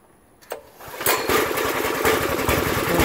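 An Earthquake Victory rear tine tiller's small engine starts after a brief pull, a short burst then catching into a loud, steady running roar that holds close and continuous.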